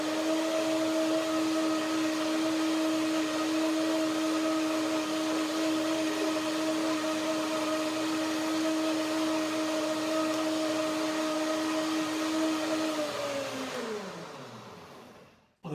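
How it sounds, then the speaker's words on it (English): A blender runs through a mix of cacao beans, cashews and cacao butter sauce with a steady high whine and whir, then its motor winds down to a stop near the end. "One more blending."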